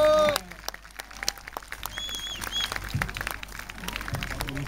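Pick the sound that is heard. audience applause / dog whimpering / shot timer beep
audience applause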